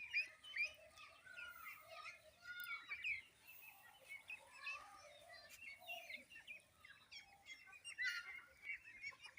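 Small white Pekin ducklings around ten days old cheep and peep continuously, faint and scattered, with soft overlapping high calls.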